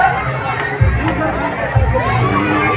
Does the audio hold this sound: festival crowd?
yes